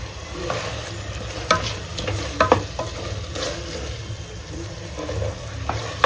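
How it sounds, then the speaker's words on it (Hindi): Minced meat (kheema) sizzles as it fries in its own released water in a pan, with close, intermittent scrapes and clinks of a spoon stirring, over a steady low cooking hiss. "देखो अच्छा भून रहे खीमे को"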